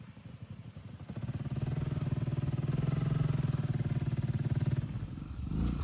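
A motorcycle engine runs close by on a group ride, a steady pulsing rumble that rises after a second, holds for several seconds, then eases off before revving again.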